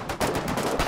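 Rapid bursts of gunfire crackle in Foxhole's naval warfare, several sharp shots in quick succession, loud and close, with no talking.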